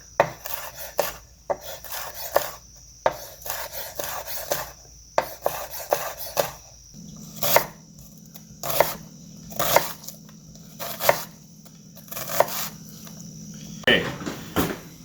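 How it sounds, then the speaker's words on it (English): A kitchen knife dices a chili pepper while chili is prepared for a cook-off, giving crisp, close chops in uneven bursts and short runs over a faint steady hum. "So I'll just cut it first into strips, and then I'll dice it up kind of smaller from there."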